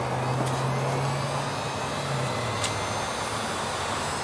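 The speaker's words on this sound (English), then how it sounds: "now we can plug in our heat gun" A heat gun blows hot air in a constant, broad whooshing hiss with a low motor hum beneath, steady and fairly close, the job being LED strip lights fitted in a car.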